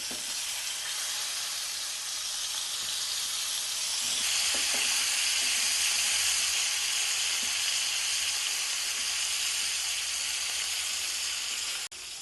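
Soaked raw banana slices sizzle steadily in a hot pan, a close, continuous frying hiss that swells slightly partway through with faint stirring clatter, no voices.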